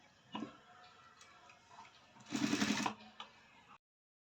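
A sewing machine makes a short burst of stitching on a blouse, surrounded by faint ticks and light handling noises, quiet and close.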